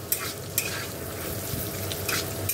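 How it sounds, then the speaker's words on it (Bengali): Peanuts frying in oil in a pan until reddish, a steady continuous sizzle with occasional crackles and stirring scrapes, close and alone without any voices. "লাল লাল করে ভেজে নেবো বাদামগুলো।"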